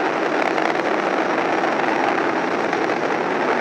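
Falcon 9 rocket engines throttled down during ascent toward maximum dynamic pressure, a steady, dense, loud roar with no breaks, broadband rumble holding evenly throughout.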